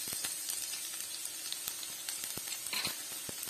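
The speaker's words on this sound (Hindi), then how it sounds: "ऑयल डालने के बाद हम इसमें डालेंगे थोड़ा सा लहसुन।" Garlic sizzles in hot oil in a pan, a dense continuous crackling hiss with scattered sharper pops, close and steady throughout with no voices.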